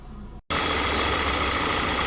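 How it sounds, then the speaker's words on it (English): Air being sucked through the PCV unit on an Audi Q3 engine with lean faults, a steady hiss over the idling engine, loud and close, after a brief cutout at the start. "This is the PCV unit on these Volkswagen models, and basically that's sucking"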